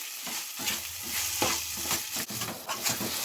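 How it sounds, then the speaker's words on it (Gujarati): Grated ginger roasts in ghee in a pan, stirred repeatedly, producing close scraping strokes over a soft, continuous sizzle. "શેકાય છે ઘીમાં શેકાય છે આદુ"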